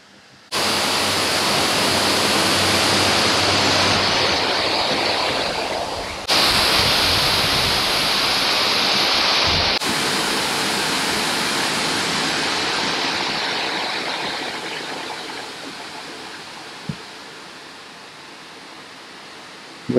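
Waterfalls roar as a steady, close, broadband rush of falling water that holds for about twenty seconds, with abrupt shifts in level and tone along the way.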